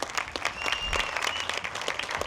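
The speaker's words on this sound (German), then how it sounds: "Ein Applaus für Bilal, einer Überlebenden" Brief applause from a cinema event audience honoring a survivor, loose individual claps scattered across the room in an uneven rhythm, with a thin whistle rising faintly above.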